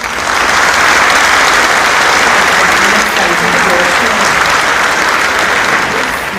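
Steady, full applause from a live audience welcoming poet Amir Ameer to the stage at a poetry recital, sustained and dense from start to finish with voices faintly mixed in.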